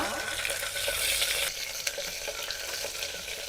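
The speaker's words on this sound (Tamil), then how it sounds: "தாளிக்கிறதுக்கு ஒரு பத்து வெங்காயம் அதையும் போட்டு வணக்கிக்கலாம்" Steady crackling sizzle of small onions frying in hot oil for a Madurai-style country chicken dish, close and continuous, with a few faint stirring clicks and no talking.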